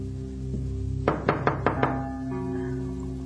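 Five firm knocks on a wooden door in quick succession, close and clear over a low steady background hum, with no voices.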